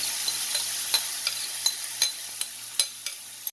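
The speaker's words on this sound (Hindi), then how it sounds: "अच्छा इसको करते हैं तेज़ आंच पे फ्राई" Minced meat keema fries over high heat in ghee or oil, with a soft steady sizzle punctuated by sharp spatula scrapes and taps against the pan at an uneven rhythm, close and alone.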